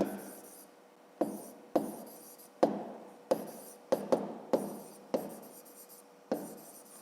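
Pen or pencil strokes on paper while math is written out, a series of short, close scratching bursts with sharp onsets, separated by quiet gaps and irregular in rhythm.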